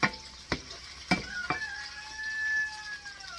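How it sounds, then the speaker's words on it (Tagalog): Tomato sautéing in a pan, with a few sharp utensil clacks against the pan early on, then a steady close sizzle. "Saute mo na ng konti ang tomato."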